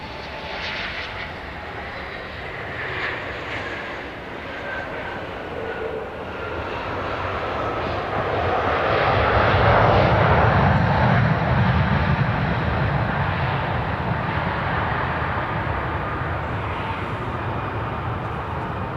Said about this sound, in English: Here's Southwest 3308 arriving from Fort Lauderdale. It's a Max 8